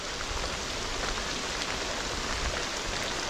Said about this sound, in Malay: Hujan je lah.